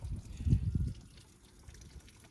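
Water from a hose runs steadily down a car windshield seam, a soft trickling and splashing that is strongest at first and then fades to a faint, quiet flow.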